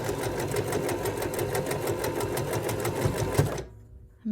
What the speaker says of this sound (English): continuing until you've stitched through all of your triangles.